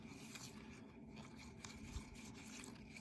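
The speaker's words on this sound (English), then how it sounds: "Using an old toothbrush and some soapy water." Quiet, steady scrubbing with an old toothbrush and soapy water, short repeated strokes cleaning a die-cast Matchbox toy crane truck, faint and close, under a low background hiss.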